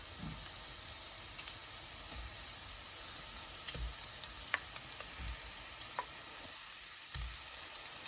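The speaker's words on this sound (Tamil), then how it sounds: "இது அதோடு சேர்ந்து பொரியட்டும்" Perogies frying in a pan, giving a steady, fairly quiet sizzle and crackle with occasional small pops and scraping stirs throughout.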